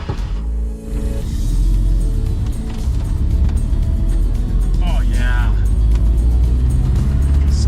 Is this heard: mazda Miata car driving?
yes